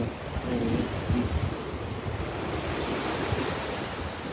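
Ocean waves surge and wash continuously along Maui's north coast in Hawaii, a steady roar of surf with gusty wind buffeting the microphone throughout.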